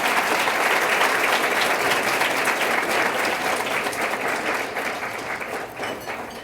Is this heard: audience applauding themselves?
yes